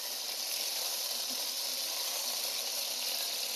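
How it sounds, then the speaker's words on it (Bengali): Tomato pieces sizzle steadily in hot oil as they are stirred in a pan, a continuous close, bright hiss with no talk over it. "আমি টমেটোটাকে একটু তেলের মধ্যে নাড়াচাড়া করে নেব"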